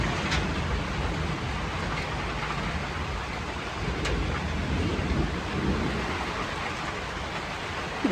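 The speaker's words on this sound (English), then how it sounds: "Bit of thunder." Distant thunder rumbles through a storm, a low, drawn-out roll under steady rain and wind noise outdoors on open, sloping ground.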